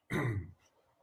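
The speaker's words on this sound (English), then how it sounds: "I'm going to need you to stop coughing" A single short, dry cough or throat-clearing burst from a person, close and fairly quiet, followed by near silence.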